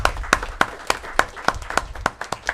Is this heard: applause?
yes